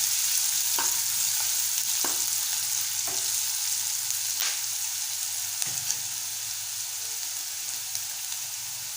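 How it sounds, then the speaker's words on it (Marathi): Cumin seeds fry in a pan with a continuous close sizzle, broken by a few sharp scraping clicks as they are stirred, and no voices. "थोडंसं जिरं टाकून घेऊया। हलकंसं परतवायचं आहे आपल्याला।"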